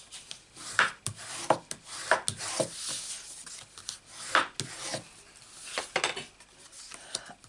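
Folded cardstock card base being burnished, repeated rubbing strokes in short irregular bursts, close and fairly quiet with no talking.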